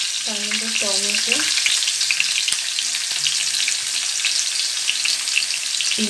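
Potatoes sizzle steadily in a hot pan, a loud continuous crackling fry that runs throughout, with a few brief low tonal clinks near the start.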